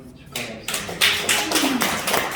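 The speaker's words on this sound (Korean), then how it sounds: "우리 박수를 한번" Worshippers in a church clap together, a quick run of loud, close, separate claps with a faint voice mixed in.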